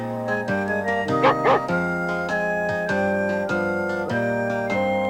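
Recorded dog sound from a VCR board game tape for Hi Ho Cherry-O, a few short yips and whimpering barks over a busy musical backing track, clear and close.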